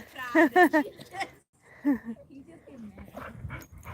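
A dog whimpers in quick high whines, then lets out a lower moaning growl, close by, with quiet background noise.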